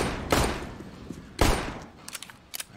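Gunfire in Counter-Strike: Global Offensive during a competitive match, two sharp loud bursts about a second apart followed by a cluster of lighter, quicker shots, with no talking.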